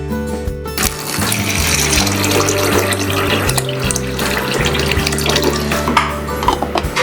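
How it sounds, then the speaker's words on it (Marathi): Water gushing from a tap into a vessel of sago pearls set to soak, a loud continuous splashing pour, close by, with a low steady hum underneath. "मी एक पळी साबुदाणा घेतलाय, तो भिजत ठेवते 4-5 तासांसाठी."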